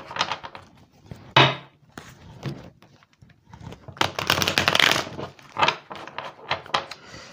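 Tarot cards handled and laid down on a surface: soft slaps, shuffling rustles and light taps in irregular bursts, close and fairly quiet, with almost no talking.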